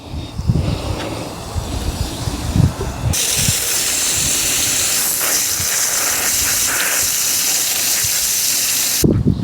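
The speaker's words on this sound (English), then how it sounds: "Basically what we do is get that sprayed on there." Cleaner sprayed onto a truck air filter, giving a loud, steady hiss that follows a few clattering handling noises and runs several seconds before stopping abruptly.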